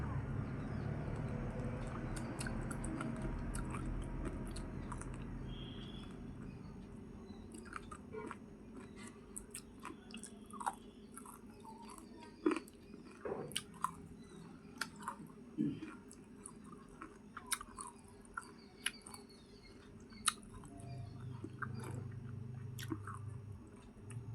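Quiet, close chewing of hilsa fish during a meal, soft wet squishes and small bites spread irregularly through a hushed room, with faint background sounds and no clear talk.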